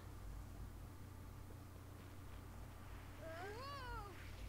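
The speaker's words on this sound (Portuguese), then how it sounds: "O gato." A cat meows once near the end in the video game Max: The Curse of Brotherhood, a faint rising-falling cry over a steady low hum and hiss.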